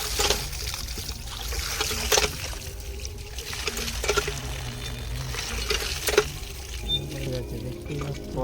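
Boiled eggs washed under running water from a tap: the water gushes and splashes steadily and loudly, with occasional knocks and clatters from handling, while a voice talks throughout.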